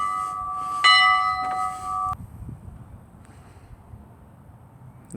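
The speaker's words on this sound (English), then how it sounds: "historically, here in Texas, we'd always have a dinner bell" A dinner bell at a Texas historical park clangs a few times in quick succession, ringing loud and near for about two seconds before cutting off to quiet outdoor ambience.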